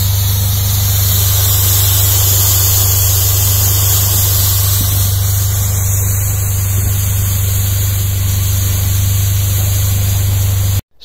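A canal narrowboat's engine idles loudly and steadily with a constant low drone and hissing wash, then cuts out abruptly at the very end as it stalls from something caught on the propeller.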